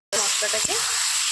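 Spice masala of chilli powder, coriander powder and a little sugar, being fried for a jackfruit kofta curry, sizzles loudly and steadily the moment a little water goes into the pan, with one short sharp hiss partway through.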